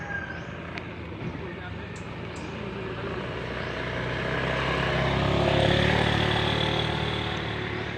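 A motorcycle passes along a quiet provincial road near a parking area. The engine hum starts low and distant, swells to a peak midway, then stays close and steady against a background hiss.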